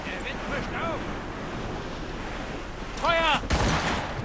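Wind rising over open sea in Assassin's Creed Rogue, a steady broadband rush of gusting air and surf throughout, swelling louder near the end, with brief tonal cries and a sharp crack mixed in.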